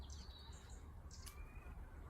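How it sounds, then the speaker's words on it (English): Sparrows chirp from a small fruiting bush with old blackberry brambles on a morning, their faint, scattered high tweets carried over a low, steady background rumble. "A lovely sound of the birds tweeting away in the morning."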